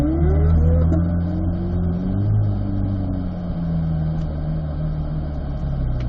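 A car accelerating hard through a timed track run, engine note climbing and shifting through revs at close range, a continuous loud drone with rising pitch sweeps.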